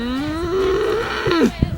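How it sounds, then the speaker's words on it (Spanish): Cow mooing loudly and close beside a road, one long drawn-out moo that rises and bends downward before a brief thump, with no other sound over it. "hay una que no quiere que esté aquí, porque no para de mugir"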